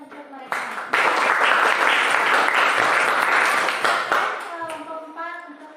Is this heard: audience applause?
yes